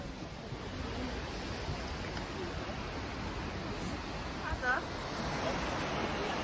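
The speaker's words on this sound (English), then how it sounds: "You can see a waterfall here, down there." A distant waterfall below the bridge near Neuschwanstein Castle gives a steady, faint broadband rush, with a few faint sounds of people passing.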